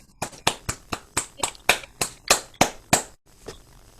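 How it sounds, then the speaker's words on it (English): A lone person at an online poetry reading claps about a dozen times in a steady, even rhythm, each sharp slap close to the microphone, followed by a pause and one last softer clap. "If you want to unmute yourself to clap, you're welcome to do so."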